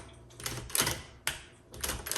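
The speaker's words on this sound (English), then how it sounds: "when you hit your return handle, it's going to advance either 1, 2, or 3 lines" A 1970s Smith Corona Corona Seventy typewriter makes a run of mechanical clacks and ratchety sweeps, with bursts repeating roughly every half second, close and fairly loud, and no speech.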